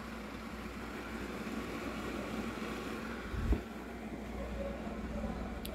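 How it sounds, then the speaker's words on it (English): A quiet cooling fan in a Bluetti AC70 solar power station, running while it powers an electric kettle, gives a steady low whir and hiss with a brief thump partway through. "Hear the fan running. It's not very loud."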